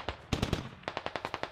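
Bursts of gunfire in a military shooter game: a short volley of three or four shots, then a steady run of about seven evenly spaced rounds, all close and loud with no talking.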